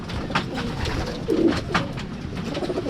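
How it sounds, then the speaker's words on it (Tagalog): Racing pigeons coo in a loft, several low throaty warbles repeating close by over light background rustle and distant chatter. "So yun mga kalapatids"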